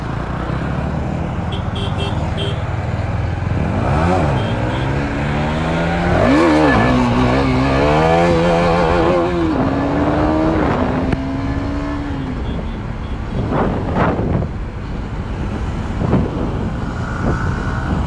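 A 155 cc motorcycle and a 250 cc superbike race side by side on the road, engines revving and rising in pitch with a loud, steady roar of nearby traffic.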